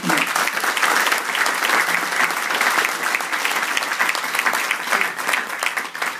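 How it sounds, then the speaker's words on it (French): An audience applauds a rabbi at a Talmud celebration event, dense continuous clapping filling the hall at steady loudness with no voices above it. "On peut applaudir cette personne."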